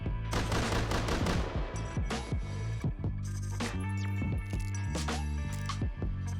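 Python revolver in the game Rust firing several loud, booming shots in quick succession, each with a sharp crack and ringing tail, mechanical clicks between them.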